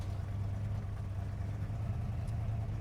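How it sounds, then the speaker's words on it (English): A race car called Blasphemi idles steadily after a race, with low oil pressure noted, giving a continuous deep rumbling drone up close with no voices. "I'll let it idle here for a minute and see if it gets worse"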